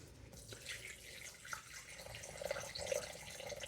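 Filtered, microwave-warmed water poured into a bowl for bread dough, a faint steady trickle with small splashes, close by in a quiet kitchen.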